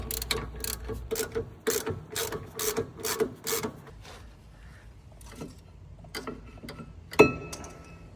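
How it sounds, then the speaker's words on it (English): Ratchet spinning off front brake caliper bolts on a Mazda RX-7, a rapid clicking run in several bursts, then scattered clanks and a sharper knock of metal parts near the end. "we can just easily get these off with the ratchet."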